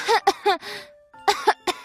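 A Portuguese-speaking narrator imitates a cough with a few short, breathy bursts, then a pause and another run of quick throaty bursts, close and clear.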